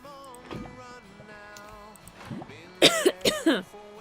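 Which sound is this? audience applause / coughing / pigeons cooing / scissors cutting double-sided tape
coughing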